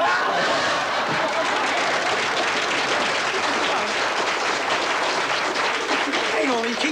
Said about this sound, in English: you keep clapping, I can't get a word in here